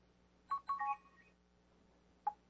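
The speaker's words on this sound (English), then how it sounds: "every time you pull your S Pen from your phone or you put it back in, there's a tiny sound that actually plays" A Samsung Galaxy Note 4 plays its faint S Pen attach or detach notification: a quick cluster of short electronic beeps, then a single brief blip about two seconds later, in a quiet room.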